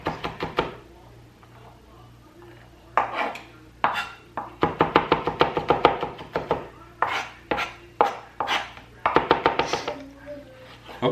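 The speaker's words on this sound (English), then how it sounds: "We're just gonna do a mince on the garlic." Garlic minced with a knife on a cutting board, rapid rhythmic chopping taps in quick bursts, close and crisp, with short pauses between runs.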